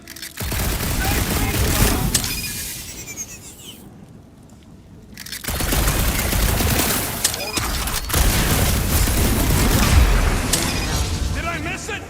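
Gunfire in a shooter video game: dense bursts of rapid shots and booms, loud and close, with a brief lull in the middle before heavy firing resumes.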